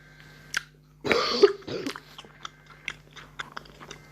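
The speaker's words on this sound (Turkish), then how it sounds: "o yüzden öksürüyorum" A single burst of rough coughing near the start, followed by softer throaty sounds and small clicks, close up, with no speech.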